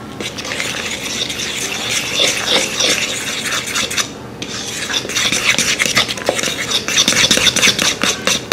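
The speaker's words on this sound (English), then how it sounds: "I'll mix it all together." Homemade batter for chicken tenders being stirred in a bowl, a close, steady scraping and swishing with utensil rubs that runs continuously and grows slightly louder toward the end.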